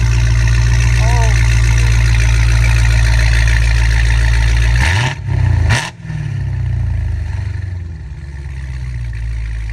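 A Dodge Hellcat Redeye fitted with catless pipes idles with a loud, deep rumble, then revs in two quick throttle blips around the middle before settling back to a heavy idle, with people talking over it.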